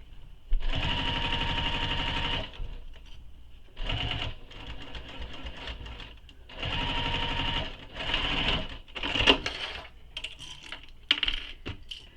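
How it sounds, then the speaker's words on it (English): A sewing machine stitches a pocket piece in place for a quiver sling in several rapid whirring bursts, close and clear, with short pauses between runs and faint clicks. "And then we're going to baste this in place, the sides and the bottom."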